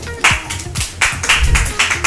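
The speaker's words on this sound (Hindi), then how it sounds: "जोरदार तालियां होनी चाहिए मैम के लिए" Applause at a women's honour event, with several people clapping in distinct bursts and claps, close and fairly loud, plus low thumping touches.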